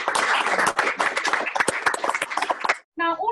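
Lively clapping from an audience at a school prizegiving and leavers' service in a cathedral, dense and close for nearly three seconds before stopping, with a voice heard just after.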